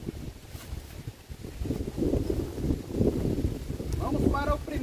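Strong wind buffets an outdoor microphone at a 50-metre airgun shooting spot, making a continuous low rumbling roar that swells louder over the second half of the clip.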